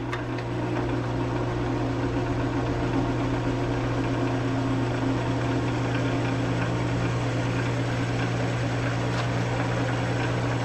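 A wood lathe spins a block of rotten, fog-stained wood with a continuous, even motor hum and a low drone. The sound holds steady for the whole stretch, with no voices over it.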